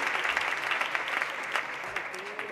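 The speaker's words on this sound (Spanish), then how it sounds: "Otro aplauso para flu flu" An audience applauds a contestant at a national tapas and pintxos competition awards ceremony in Valladolid, with a steady, dense burst of clapping throughout that thins slightly toward the end.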